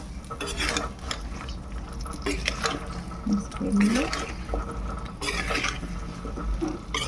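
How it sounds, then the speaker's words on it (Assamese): Spices being stirred into an Indian olive (jolphai) pickle, a soft wet scraping and clinking of a utensil in a bowl with a few sharper knocks, while a person talks over it. "মছলাখিনি ধুনীয়াকৈ মিক্স কৰি দিছোঁ"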